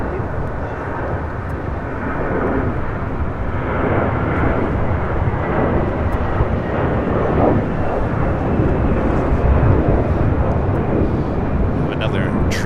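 A Japan Airlines Boeing Dreamliner arriving from Tokyo Narita lands on runway 24 left at LAX, its broad, rumbling engine roar building steadily and lingering while someone talks over it.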